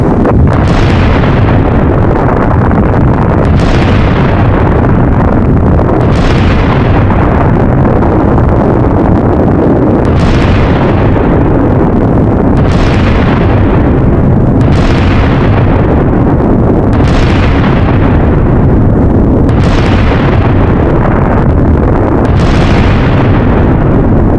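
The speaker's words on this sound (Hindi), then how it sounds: "अमेरिकी सेना ने ईरान पर ताबड़तोड़ बम बरसा दिए हैं।" Bomb explosions from US military strikes on Iran boom in a repeating series, about every two and a half seconds, each heavy blast decaying into a continuous loud roar.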